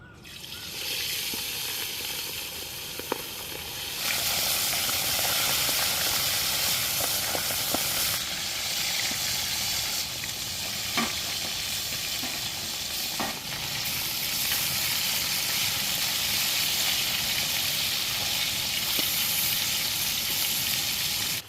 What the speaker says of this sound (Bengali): এবার মাছগুলোকে ভেজে নেবো